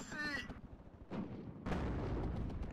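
Tank and artillery fire in the Cold War strategy game WARNO, heavy booming shots and rumbling impacts in quick succession, with a voice speaking briefly at the start.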